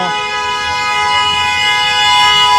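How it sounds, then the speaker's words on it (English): A vehicle horn blares in a sustained, loud, brassy tone amid New York City traffic on Broadway near Rockefeller Center, close and continuous over a low street rumble. "The sound of that horn says I'm gonna be waiting in traffic a long time."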